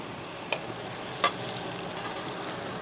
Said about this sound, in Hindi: लहसुन और अदरक हमारा फ्राई हो चुका है।